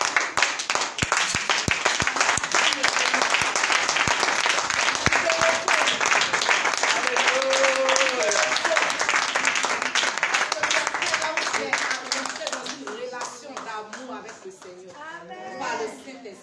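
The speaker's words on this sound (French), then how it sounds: "Lève-toi et puis acclame." A church congregation at a prophetic worship service applauds in sustained, dense clapping with crowd voices and cheering mixed in, loud and steady before thinning toward the end.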